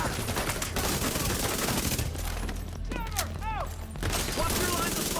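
Sustained automatic gunfire in the video game The Division 2, dense and loud rapid shots with a brief lull and some electronic effect sounds partway through, under game audio.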